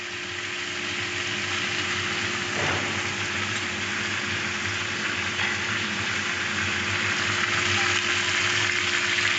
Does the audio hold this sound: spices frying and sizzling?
yes